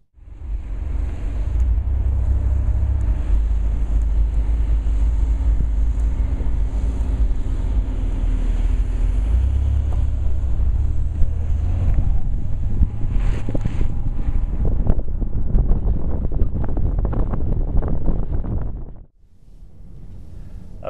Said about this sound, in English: The main noise factors now are actually wind noise coming around the A-pillar